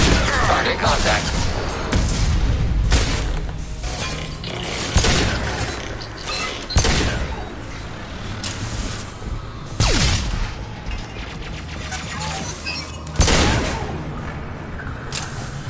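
Gunfire in Mass Effect Legendary Edition, repeated sharp shots and bursts spaced through a noisy combat scene with mechanical clanks, while voices talk over the action.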